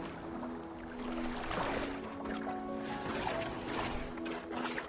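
A boat gliding across water in Assassin's Creed Valhalla, with gentle sloshing and lapping along the hull over a low game ambience and faint tonal hum, moderate in level and steady for several seconds.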